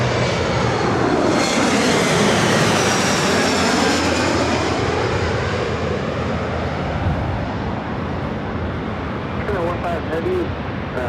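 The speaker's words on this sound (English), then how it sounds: "Japan Airlines 777-300ER heading to Tokyo Haneda" A Japan Airlines Boeing 777-300ER roars on the runway at Los Angeles airport, a loud, sustained jet engine rumble and whine that slowly fades, with radio chatter faintly heard near the end.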